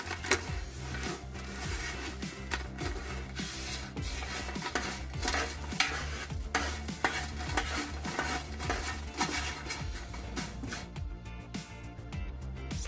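Dried chives being roasted and stirred in a pan for chive tea, a steady dry scraping and rustling with faint sizzle that continues throughout, close and even in level.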